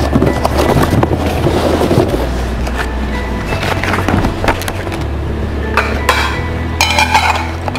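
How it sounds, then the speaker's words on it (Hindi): Windsor brand china dinner plates from an 18-piece set being handled in a shop, with repeated clinks, knocks and scraping of ceramic pieces against each other over a steady low hum, close and fairly loud. "आप देख सकते हैं हमने जो है ये मुकम्मल प्लेट सेट निकाल लिया"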